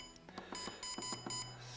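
An Apeman H55 trail camera emits a quick series of short electronic beeps, a rapid patterned cluster of bright tones heard close and alone.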